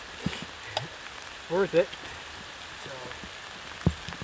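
Freezing rain pattering steadily on surfaces outdoors, a soft continuous hiss with scattered drop ticks, while a person speaks briefly over it.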